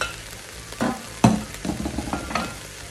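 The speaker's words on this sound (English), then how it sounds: "while our beef is getting a nice sear, we're gonna go ahead and add our vegetables, onions, carrots, and celery" Beef searing in a pot as onions, carrots and celery go in for a beef and vegetable soup, a steady close sizzle broken by a few louder clatters and stirring bumps, with no talking.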